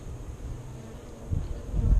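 Honeybees buzz at the hive in a low, steady hum that swells louder toward the end.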